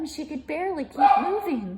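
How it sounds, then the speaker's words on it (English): A dog yips and barks a few times indoors, its short sharp calls mixed in beneath a voice steadily narrating a story. "Sorry about the dog."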